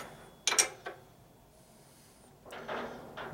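A wrench is worked onto a nut on a 1958 Harley-Davidson Panhead 74ci engine during a top-end rebuild: a couple of sharp metallic clacks, a short pause, then a softer scraping rattle, all close and fairly quiet.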